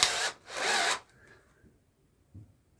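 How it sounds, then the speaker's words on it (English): A Forstner bit drilling into wood gives two short, loud, whirring bursts in quick succession, followed by quiet, faint handling knocks. "Just going to use the Forstner bits."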